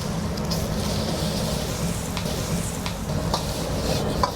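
Egg, a little extra oil and vegetables fry in a hot wok for Singapore vermicelli, giving a steady, close sizzle with a few faint spatula scrapes and taps throughout.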